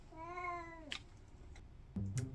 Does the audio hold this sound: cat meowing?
yes